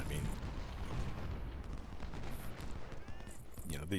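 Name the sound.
rifle and canister fire in video game Ultimate General Civil War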